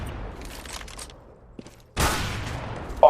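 Gunfire in a competitive video game match, a faint patter of distant shots followed by a sudden louder burst of close weapon fire.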